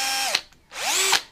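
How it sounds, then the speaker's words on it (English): A handheld power drill spins up and down twice in quick succession, its whine sweeping up in pitch, cutting off and then rising again, loud and close with no speech. "I just thought I'd share with you how good this drill is"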